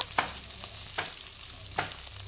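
Curry leaves crackling in hot oil for cabbage poriyal, a soft continuous sizzle punctuated by three or four spatula scrapes as the pan is stirred, no voices.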